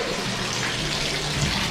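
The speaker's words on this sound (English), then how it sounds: "All right, and I just do a rinse twice," Water gushes and sloshes continuously while a bottle is rinsed out, a dense close wash of running water with no voices.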